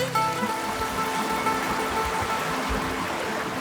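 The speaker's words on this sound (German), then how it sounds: "Das ist ein kleiner Ableger von den Wasserfällen" A small offshoot of a waterfall on Samos, a steady, close wash of flowing stream water filling the scene throughout without pause.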